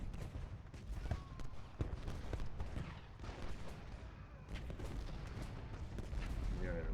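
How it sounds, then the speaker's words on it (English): Artillery and rifle fire from a Civil War battle in Ultimate General Gettysburg, a continuous distant rumble scattered with sharp cracks and thuds, fairly faint and steady throughout. "We are going to contribute artillery to his assault."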